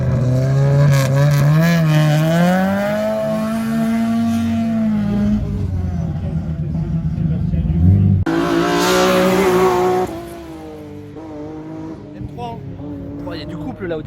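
A rally car launches from the start line of a hill climb race, its engine revving hard in rising, wavering pitch with a tire-squealing edge. The car fades as it pulls away, and people talk over it.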